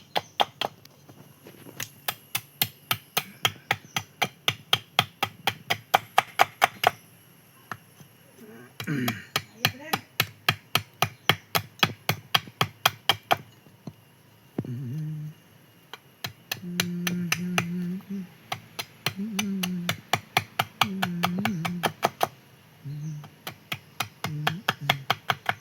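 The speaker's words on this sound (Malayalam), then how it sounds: "നമ്മൾ ഈ ആണിയിൽ വെട്ടുന്ന സമയത്തല്ലേ നമ്മുടെ കത്തിയിൽ പോയി കൊള്ളാൻ പാടില്ല കേട്ടോ." A knife chops and whittles wood into the pin of a homemade spinning top, with rapid, sharp, evenly spaced cutting taps in quick bursts, close and fairly loud, while someone talks over the later strokes.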